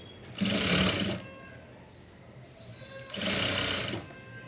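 A sewing machine stitches an invisible shape belt in two short, loud bursts of rapid mechanical whirring, each under a second long, separated by a quiet gap of about two seconds.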